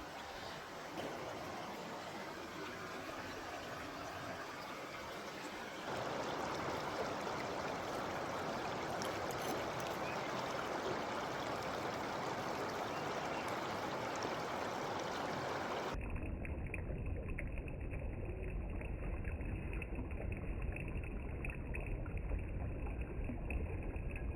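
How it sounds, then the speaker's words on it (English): Water running through a gold prospecting sluice box, a steady close wash and gurgle that keeps going throughout, growing louder and fuller partway through, with no talk over it. "I just love running a sluice."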